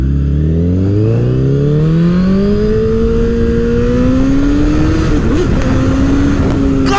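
A Honda CBR1000RR motorcycle accelerates hard through the gears out toward open country, its engine note climbing steadily as a loud, close, continuous roar over steady wind noise.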